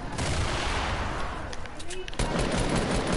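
Dense, continuous automatic gunfire from a video game shooter rattles loudly throughout, with sustained bursts and a brief shift in the firing partway through.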